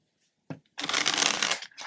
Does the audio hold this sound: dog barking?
no